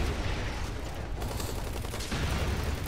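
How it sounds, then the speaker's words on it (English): Gunfire from shooting enemies in the video game Hazrd Ops, a dense stretch of rapid shots and fusillade bursts over a low rumble, fairly quiet throughout with a brief pause partway through. "So shoot these guys down."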